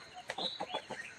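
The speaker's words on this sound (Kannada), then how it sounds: "ನೋಡಿ, ಕಿತ್ತಾಡ್ತವೆ ಕೋಳಿಗಳು." Village chickens cluck and squabble over scattered grain in the cold morning air. Short, faint calls arrive in a quick irregular series, distant and quiet, with no talk.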